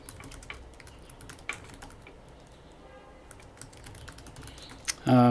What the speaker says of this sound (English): Sorry, I'm just typing quietly here.